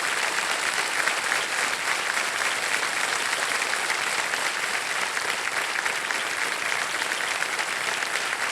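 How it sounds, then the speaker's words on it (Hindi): Sustained studio audience applause welcoming contestants on the quiz show Kaun Banega Crorepati, an even, dense wash of clapping that holds steady throughout without speech. "एक बार इनका स्वागत करते हुए बहुत बहुत ताली बजाएं"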